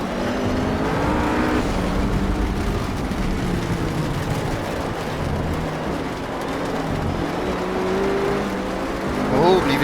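A RUF GT3 race car engine in Project CARS at the Catalunya circuit, a sustained droning engine note with shifting pitch throughout, a rise in revs near the end, and a faint background voice at times.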